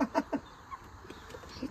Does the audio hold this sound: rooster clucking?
yes